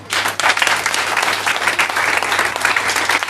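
A church congregation bursts into loud, sustained applause, dense overlapping clapping that sounds close and continuous, with a low steady hum underneath.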